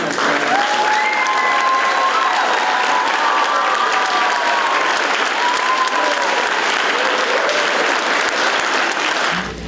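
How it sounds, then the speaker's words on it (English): Crowd at an elementary school community celebration concert applauds the music teacher, a thick continuous clapping with brief cheering tones over it, steady for nearly ten seconds before cutting off. "a round of applause for our wonderful music teacher,"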